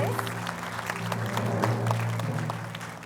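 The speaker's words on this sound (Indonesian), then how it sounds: "Tepuk tangan dulu untuk para panelis." An audience applauds panelists at a 2009 forum of women legislative candidates on public health, steady clapping from a crowded room, moderately loud, with a few voices mixed in.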